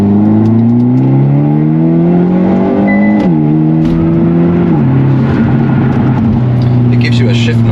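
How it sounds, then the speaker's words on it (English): A Hyundai Elantra N accelerating hard at full throttle, engine note climbing steadily, dipping at a quick upshift, then pulling again and shifting once more; loud and close from inside the cabin with no talking. "I'm gonna floor it again"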